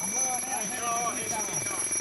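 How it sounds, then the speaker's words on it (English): A firefighter's air-supply pack sounds its low-air warning, with steady high-pitched electronic tones running throughout, under a voice speaking over them. "If they run low, it'll beep."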